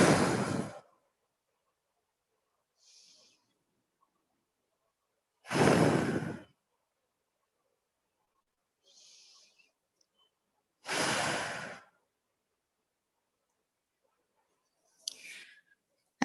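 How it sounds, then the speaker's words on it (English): Three long, deep breaths come up close and loud, each a full airy exhale several seconds long, with softer inhales between them and no speech. "let's just take 2 or 3 deep breaths"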